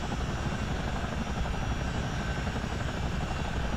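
A CH-47 Chinook twin-rotor helicopter hovering in a flight simulator game, a dense, steady engine drone with a low rotor thump, continuous and even throughout.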